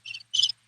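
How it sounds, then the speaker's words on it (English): Two short bursts of cricket chirping, bright and trilling, come from a dim bunker scene with a low hum running underneath, separated by a brief gap before another sound starts at the end. "There are crickets in the bunker."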